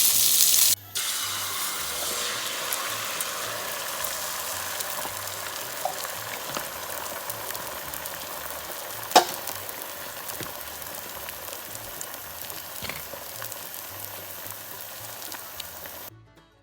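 Sausage and eggs fry in a pan on a Coleman camp stove, a soft steady sizzle running throughout with one sharp knock midway.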